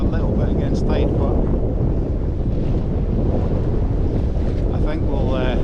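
Strong wind roars across the microphone while sailing single-handed off Scotland near Ailsa Craig at 16 to 20 knots, a loud continuous rush with water and boat noise beneath and a few faint tonal sounds.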